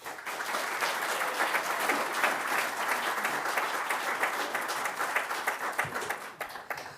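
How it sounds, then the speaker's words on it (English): A lecture audience at the McFaddin-Ward House Museum gives a sustained round of applause for speaker Matt Anderson, a full, dense crowd clapping that holds steady for several seconds before tapering off. "one more big round of applause for Matt Anderson"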